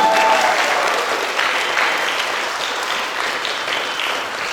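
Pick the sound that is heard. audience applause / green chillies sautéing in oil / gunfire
audience applause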